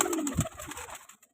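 Golden pigeons for sale give a few soft, close coos, a short burst of low throaty calls that fades out within a second or so.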